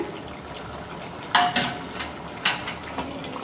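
Fish curry masala paste bubbling and sizzling in a pan, a soft steady simmer broken by a couple of sharp stirring scrapes and clinks, close and fairly quiet with no talking.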